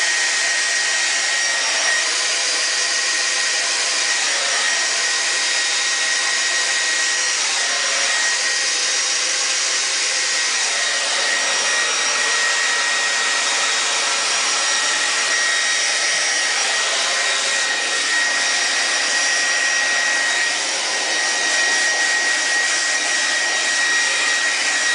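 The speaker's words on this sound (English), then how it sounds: "I'm just going to gently go through and blow dry my roots" A regular handheld blow dryer set to hot and high roars steadily and loudly while drying hair roots, its airflow hiss constant with slight shifts as it moves through the hair, with no talking.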